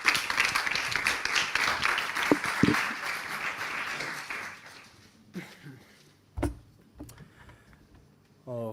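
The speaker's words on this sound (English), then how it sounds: "an applause for them." An audience at a closing ceremony applauds a team for several seconds, the clapping fading out before a few isolated loud knocks and bumps; a voice speaks faintly near the end.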